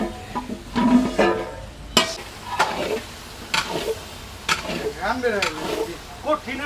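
Jamuna prawn curry is stirred in a pan over a hotel stove. Scraping and stirring strokes come in uneven bursts over a sizzling fry, with people talking close by throughout.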